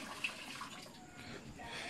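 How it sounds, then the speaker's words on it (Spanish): Water is poured out while corn colada is being made, a soft, continuous splashing trickle heard faintly at close range, with no talking. "vamos a botar esa agua"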